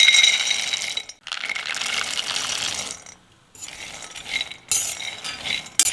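Peanuts pour into a pan for roasting in several loud, close bursts of rattling clatter separated by short pauses.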